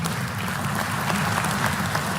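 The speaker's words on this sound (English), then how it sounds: "then we'll clap again" Sustained audience applause fills a large hall during a governor's State of the State address, steady and dense with no voices over it.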